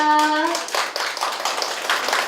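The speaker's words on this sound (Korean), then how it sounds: "어머니들 마지막으로 박수 주시면" Parents clap at the close of a school admissions information session, a brief round of scattered hand claps that follows a fading tone, moderately loud and thinning toward the end.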